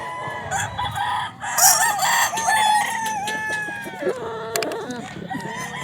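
Several Elevator Kelso gamefowl roosters at a gamefarm crow loudly and repeatedly, their calls overlapping one another at close range, with clucking from other fowl heard in the background.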